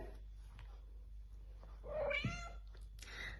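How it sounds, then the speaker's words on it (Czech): A house cat lets out a drawn-out, wavering meow near the middle, preceded by softer murmuring sounds and followed by a brief higher cry, over a steady low background hum. "Áno, kočička."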